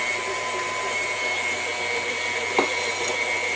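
An electric mixer whirs steadily while beating cookie batter for white chocolate macadamia nut cookies, a constant close-up motor drone with one brief knock partway through.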